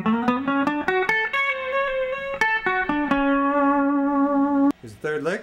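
An electric guitar with heavy distortion plays a blues-metal lead lick: quick picked and bent notes, one long sustained note, then a short flurry at the end, loud and close with echoey effects.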